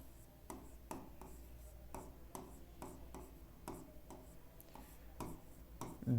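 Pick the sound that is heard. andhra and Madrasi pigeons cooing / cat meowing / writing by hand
writing by hand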